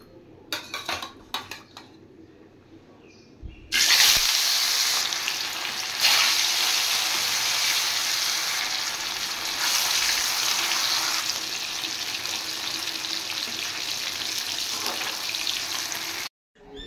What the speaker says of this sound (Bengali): আর এদিকে তেল গরম হয়ে গেছে, এবার আমি মাছগুলো ভেজে নেব।